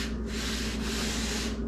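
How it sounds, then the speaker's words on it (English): Steady abrasive rubbing of a 3M sanding sponge across a painted wooden dresser, continuous and close, with brief dips in the scratchy texture. "I'm going to take this 3M sanding sponge and I am going to sand"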